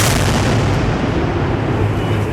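A buried dynamite charge set off by a police bomb squad gives a loud, muffled, sustained rumble of blast noise that fills the whole stretch without any talk.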